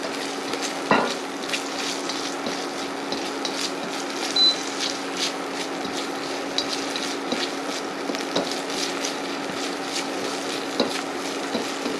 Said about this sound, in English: So we're just basically just frying this all up a little bit.